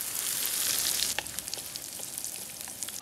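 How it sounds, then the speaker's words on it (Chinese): Hot goose oil poured over chili powder mixed with sesame, a loud close sizzle that surges at first, then settles into a fainter crackling fizz with scattered pops; no talking. "淋上鹅油，把辣椒面二次激香"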